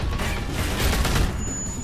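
Gunfire in The Walking Dead: A New Frontier video game, a dense rattle of shots and impacts packed into a couple of seconds, loud and continuous with game ambience beneath.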